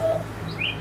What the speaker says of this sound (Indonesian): jawaban yang benar tuh burung kenari